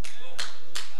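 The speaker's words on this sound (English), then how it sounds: "didn't nobody clap their hands but one or two" A few people clapping at a church revival service: three separate, sharp hand claps in quick succession, close and loud, with some voice mixed in.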